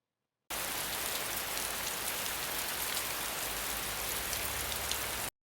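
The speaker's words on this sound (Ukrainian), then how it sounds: "раптом зібрались хмари і хлинув перший весняний дощ" Steady, dense spring rainfall hisses evenly throughout, a continuous wash of drops with no voices or other sounds.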